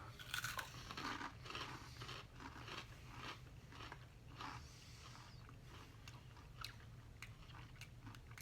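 Flaming Hot Dill Pickle Cheetos chips being bitten and chewed up close, a run of crisp crunches and chomps in an uneven rhythm with no talking, steady and fairly quiet.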